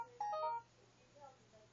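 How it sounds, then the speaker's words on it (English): A mobile phone rings briefly in a quiet room, a short burst of electronic tones that stops after about half a second, leaving faint background hum. "That was my phone."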